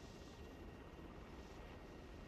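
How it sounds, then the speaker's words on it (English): Rotor and engine drone of a military helicopter in the Arma video game, a steady, dense wash of noise with no clear beat, heard alone throughout without talk. "There's already someone flying the helicopter."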